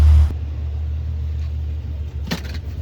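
A 1987 BMW 325is E30 drives along with a steady low engine rumble inside the car, starting with a brief loud burst and then running evenly, with a faint clatter near the end.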